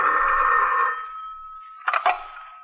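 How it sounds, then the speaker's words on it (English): A telephone rings in a vintage radio drama, a long steady bell tone lasting about a second, then two short sharp clicks as the handset is picked up. "Coincidentally, the time was exactly 8:32 when the telephone rang."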